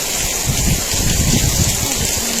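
Steady rain pours down outdoors, a dense continuous hiss of drops with no break, fairly loud and close.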